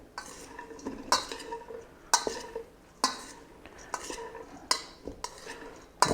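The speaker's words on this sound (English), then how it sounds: "we're mixing them together just to make it so they're distributed all together. Just a spoon." Freshly cut house salad vegetables being gently tossed with a spoon in a bowl, with rhythmic scraping and clinking strokes about once a second, close and moderately loud, with no one talking.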